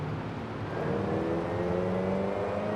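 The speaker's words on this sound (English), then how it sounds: "the exhaust is so nice" Car exhaust revving in Forza Horizon 5 on a roughly 655-horsepower build fitted with sandy off-road tires; a steady engine drone climbs into a rising rev that holds and swells toward the end, with no talking.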